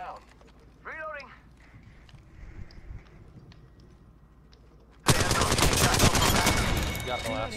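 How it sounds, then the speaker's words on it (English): Enemy gunfire in a video game bursts in as a loud, dense stream of rapid shots near the end, following quieter game sounds and a voice. "The enemies are shooting at me."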